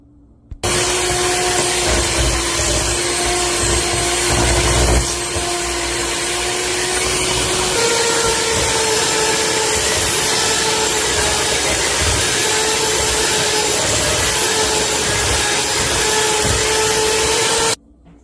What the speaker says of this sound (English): now I'm gonna use the mixer on medium speed until the butter and the sugar is creamy and fluffy